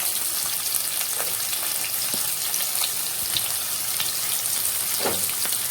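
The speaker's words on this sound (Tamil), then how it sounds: "இப்போ வெங்காயத்தை சேர்த்துக்கிறேன்." Onions hit hot oil already crackling with bay leaf and fennel seeds, giving a steady close sizzle with a few faint scrapes and clinks from the pan.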